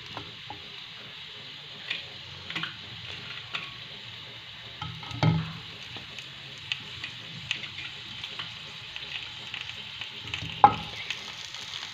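Fish pieces cooking in a covered pan give a soft, steady sizzle and steam hiss, broken by a few faint clicks and light knocks at irregular moments, with no one speaking.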